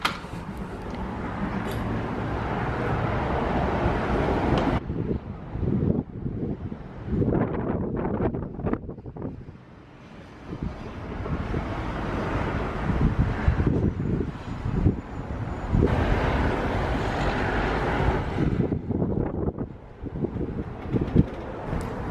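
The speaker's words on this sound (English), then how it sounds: "it's way too windy out there" Strong gusts buffet the microphone on a flat's balcony in London, a loud, rumbling roar that swells and dips in waves throughout, with no clear voice rising above it.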